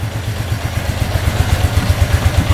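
A cheap used ATV engine idles steadily up close, a loud, rhythmic low putter with a slight mechanical clatter throughout.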